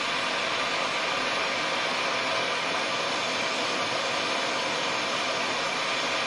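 A torch roars steadily and loudly while heating the middle of a double-ended lock pick blade, an even broadband hiss with no breaks and no talking.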